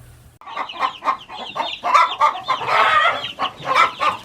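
Chickens clucking busily close by in a barn, a flurry of overlapping clucks and squawks from several birds with no one talking.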